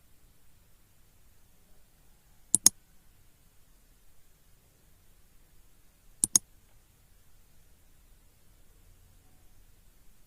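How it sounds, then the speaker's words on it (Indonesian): A computer mouse is clicked twice. Each click is a crisp, close double click, the two clicks a few seconds apart, heard alone against near silence. "Nah, kita klik reportnya."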